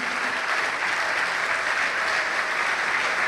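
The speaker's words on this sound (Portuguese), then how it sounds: "Você quer aplaudir Jesus? Aplaude Jesus." A church congregation claps together in a sustained, dense burst of applause that stays even and fills the room, with no clear voices above it.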